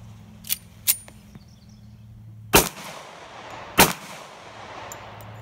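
Two loud, sharp pistol shots from a SIG Sauer 1911 crack out about a second apart and ring into the outdoor air, preceded by a few fainter clicks and knocks.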